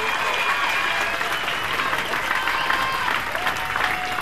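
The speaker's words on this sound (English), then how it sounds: "a big round of applause to both ladies for a fantastic opening contest" Crowd at a women's boxing event applauds after the opening bout, steady close clapping with some cheers and a few whistles mixed in, continuing throughout.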